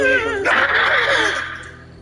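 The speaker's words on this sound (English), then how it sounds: "are you doing, puppies? Where are you going?" Puppies whimper in the video game Borderlands 3: a close, high-pitched wavering whine breaks into a burst of yips and soft cries, fading over about two seconds.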